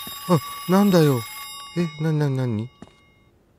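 Black rotary telephone ringing in the horror video game Not Alone: a steady, high tonal ring running behind a man's excited, startled talk.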